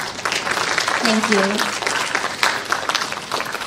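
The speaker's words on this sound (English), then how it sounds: "let's give another round of applause for both of our keynote speakers" An audience at an education summit gives a round of applause for keynote speakers, a moderate steady clatter that runs beneath a speaker's brief words.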